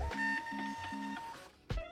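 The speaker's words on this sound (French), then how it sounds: "regarde, j'appuie sur imprimer." A thermal printer runs a quick print job, giving a short series of rhythmic mechanical bursts with faint electronic tones, then a sharp click near the end.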